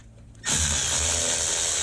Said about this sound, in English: And then I just need to take off the 2 little 10 millimeter screws.